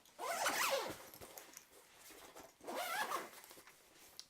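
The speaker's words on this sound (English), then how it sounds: "it's got a zipper on each side, so you just open it up, slide your instrument in," A zipper on a guitar gig bag is pulled shut in two quick, raspy runs separated by a pause, close and fairly quiet, with light fabric handling in between.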